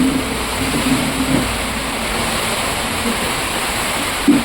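Floodwater rushes in a steady, loud roar that never lets up, a dense wash of churning water in Satana, with no voices.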